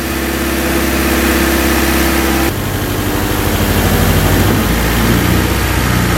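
A Honda D15B VTEC engine swapped into a Civic idles steadily, a continuous mid-low hum with a slight shift in tone partway through, loud and close with no talking.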